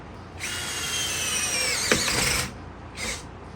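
A cordless drill bores with a 1-inch self-feeding paddle bit, a high motor whine that bogs down and drops in pitch under load, then stops, followed by a brief second short spin; no talk.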